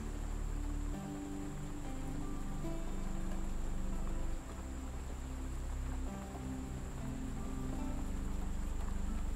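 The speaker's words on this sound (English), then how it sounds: "Can you hear the rain?" Steady rain patters softly over a low, continuous hum, with a faint high whine in the background and no voices.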